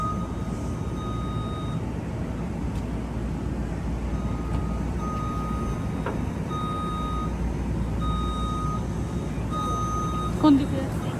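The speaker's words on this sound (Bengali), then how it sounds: "কত গাড়ি গাড়ি আর গাড়ি শুধু।" Road traffic beside a railway station, a steady roar of vehicles with a truck's repeating reversing beeps, and people talking throughout.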